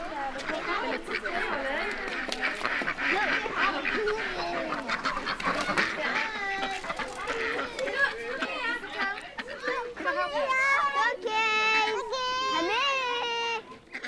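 Ducks quack and chatter continuously, up close, with people talking over them and brief high squeals mixed in.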